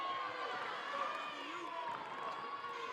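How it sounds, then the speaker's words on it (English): Basketball fans stomping their feet and clapping in an indoor college arena during a conference tournament game, a steady, dense crowd rumble that stays fairly even and somewhat distant throughout. "Dallas Baptist fans starting to stomp their feet and clap their hands behind us, making a little noise inside the UMAC"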